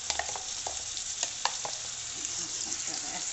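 Chonge (Caralluma fimbriata) vegetable frying in a pan, a steady close sizzle broken by a few soft stirring scrapes and taps.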